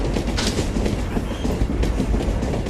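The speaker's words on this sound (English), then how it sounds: "the subway noise starts before you even start pushing the car" Subway train noise in the Mad Max video game: a loud, continuous rumbling clatter of rail cars rolling along the tracks, filling the whole moment with no voices over it.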